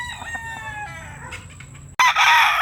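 A rooster crows loudly nearby among hens in a rural yard, a long harmonic call followed by a sudden burst of clucking and squawking at the end.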